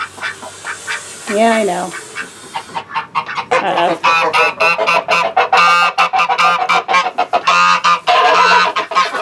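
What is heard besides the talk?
Cayuga duck quacking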